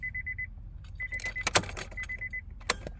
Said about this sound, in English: put your key back in ignition